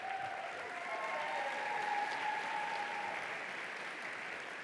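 An indoor audience at a startup demo day gives sustained applause, a dense even clapping that holds steady for several seconds, with a few faint voices mixed in.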